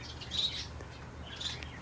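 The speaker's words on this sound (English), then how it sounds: "20 different species of finch and small parrots and doves" Small aviary birds, finches, small parrots and diamond doves, chirping and tweeting in two faint bursts of high calls over steady background hiss.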